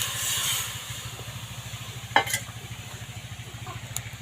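A small amount of water added to a hot wok before prawns and ground prawn heads go in: a close, soft sizzle over a quick, rhythmic low pulsing, with a brief clatter partway through and no voices.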